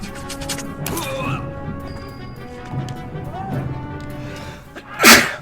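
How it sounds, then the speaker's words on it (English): A character in the video game Banner Saga lets out one sharp sneeze near the end, rising above steady in-game background sounds and music. "Quit sneezing."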